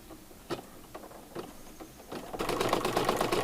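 An embroidery machine stitches an in-the-hoop zipper bag, first with a few spaced, sharp mechanical clicks, then a dense, rapid, louder rattling run of stitching near the end, with no speech.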